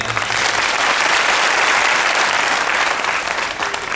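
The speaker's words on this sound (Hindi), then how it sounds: "एक बार पुनः उमा के लिए तालियां।" Loud, dense audience applause fills a religious Devi Bhagwat katha gathering in Udhampur, a continuous wash of many hands clapping without pause.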